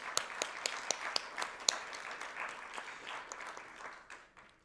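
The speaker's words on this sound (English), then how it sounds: "Let's give ourselves a round of applause for that." An audience at a Japan–Africa market event in Morocco claps together in a sustained round of applause, a dense spread of hand claps that holds steady and then tapers off near the end, with no talking over it.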